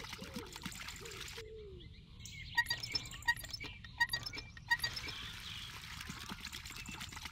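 Water splashing and trickling from a hand pump in the game My Summer Car, bursts of pumping clanks in the middle seconds over a steady wash of outdoor ambience with faint birds.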